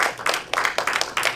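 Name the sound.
congregation applause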